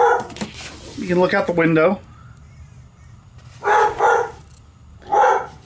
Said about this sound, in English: That dog sounds happy.